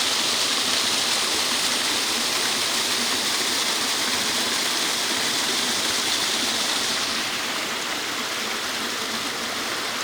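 Steady rushing flow of a stream at its karst spring source, the Trebuhovica, a tributary of the Ljubljanica in Gorski Kotar; a continuous, close, full wash of water with no voices.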